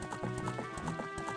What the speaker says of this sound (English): we have now gotten pretty much the very first steed ever introduced in Legend of Zelda series, Epona the horse